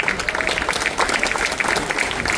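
Audience applause welcoming Governor Dan McKee at a crowded stadium campaign event, a steady dense clapping from many hands filling the whole stretch with no pause.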